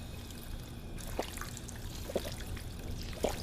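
A character drinking water in Fallout 4, a soft trickling and pouring of liquid with a few gulping splashes, faint and steady beneath a low background hum.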